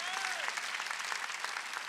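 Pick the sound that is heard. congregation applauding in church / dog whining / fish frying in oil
congregation applauding in church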